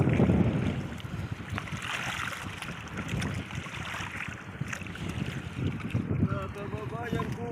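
Fishing boats out at sea near a fish trap, with wind buffeting the microphone, a steady engine rumble and water noise, and people talking over it.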